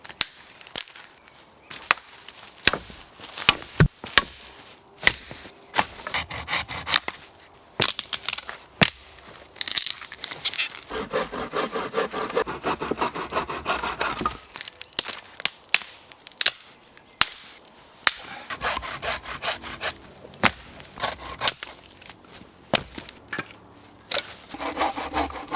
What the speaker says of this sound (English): Now I need to process all this into firewood